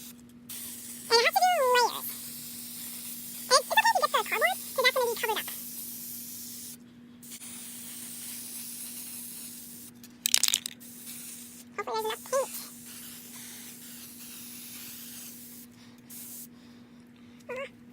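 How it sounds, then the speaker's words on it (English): Several short hissing bursts of an aerosol spray paint can coating a flower mirror craft, separated by pauses, with a voice speaking in between over a steady low hum. "I'm gonna spray paint it."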